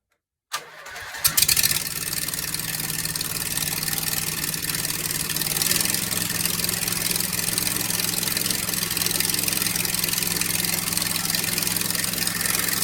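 A John Deere engine on a mud mower fires up after a brief silence and settles into a steady, loud, continuous run with a constant low hum and broadband roar.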